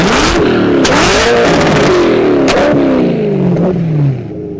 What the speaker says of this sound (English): I'll try to rev it.